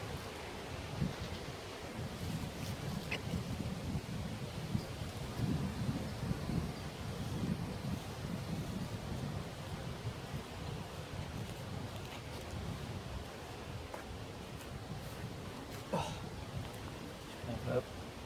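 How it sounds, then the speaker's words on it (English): Wind blowing across an outdoor camp with a lavvu tent, a faint steady low rushing and buffeting that continues throughout, with occasional soft rustles and someone speaking quietly. "Just the wind's coming across this way"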